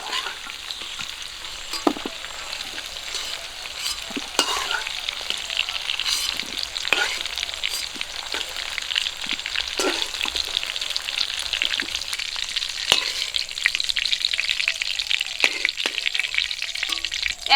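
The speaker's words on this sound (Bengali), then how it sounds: "একই তেলে আমি পেঁয়াজ কুচি আর কাঁচা লঙ্কা চেরা দিয়ে দিচ্ছি।" Chopped onion and slit green chilies fry in oil left from frying rui fish, potatoes and taro, making a constant close sizzle with light crackles and occasional spoon scrapes throughout.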